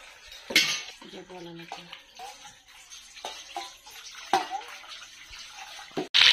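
Boiled figs being mashed and rinsed in water in a kitchen, with splashing, sloshing and clinking of a bowl or utensils, several sharper knocks, and a loud burst of splashing at the end.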